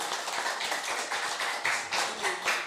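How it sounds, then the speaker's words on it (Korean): Church congregation clapping during a Sunday worship service, a dense, steady patter of many hands applauding together, moderately loud and continuous throughout with no speech over it. "우리 박수로 격려하겠습니다."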